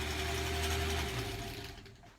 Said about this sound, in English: And sew to the end.